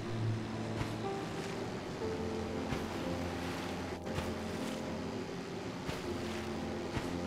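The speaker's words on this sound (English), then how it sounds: "for a rickety little gondola with an outboard motor, I am really flying now" A rickety little gondola fitted with an outboard motor speeds over open water, its steady engine drone mixed with continuous rushing splash and spray, without pauses, fairly close throughout.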